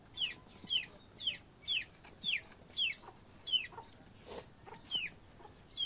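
A newly bought rooster and free-range native country hens call from a small backyard flock, a quick run of sharp, rising clucks repeating in a regular rhythm at moderate distance.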